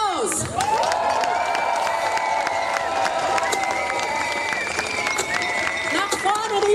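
Crowd applause and cheering at an outdoor farming protest rally in Germany, a sustained roar of clapping, whoops and shouting voices, loud and continuous throughout.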